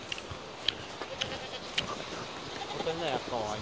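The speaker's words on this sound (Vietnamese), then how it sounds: "Dê của bà con này." Goats bleat a few times on a rural hillside farm, short nasal calls popping up at moderate distance over a busy outdoor background, with people talking nearby.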